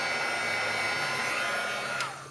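A heat tool blows steadily to melt embossing powder on a handmade circle Christmas card, a continuous loud airy whoosh that holds for about two seconds before tapering off slightly at the end, with no talking.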